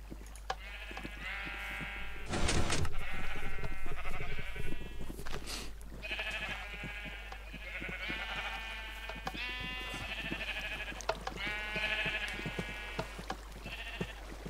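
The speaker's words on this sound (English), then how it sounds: "hopefully sheep are short enough to go through there." Sheep in the game Minecraft bleat over and over, several overlapping calls in close succession throughout, fairly loud and near, with a brief burst of another sound early on and a constant low hum underneath.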